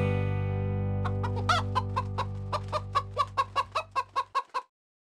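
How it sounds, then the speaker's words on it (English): A black hen clucks in a run of about a dozen short, evenly spaced calls that grow louder toward the end, over a sustained low tone that cuts off just before the last clucks. "Hickety Pickety, my black hen."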